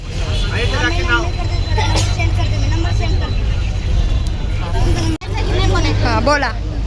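Inside a moving bus, a continuous low engine rumble and road noise run steadily beneath overlapping nearby chatter from passengers, with a brief jolt near the end.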